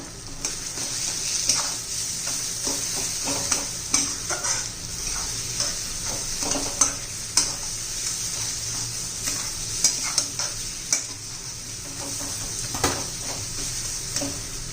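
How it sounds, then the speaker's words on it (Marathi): Mashed peas with salt are mixed in a bowl for matar paratha filling, producing soft, continuous stirring and scraping with intermittent clicks of a spoon against the vessel. "वाटाणा बारीक करतानाच आपण मीठ घातलेलं होतं व्यवस्थित असं मिक्स करून घेऊया आता"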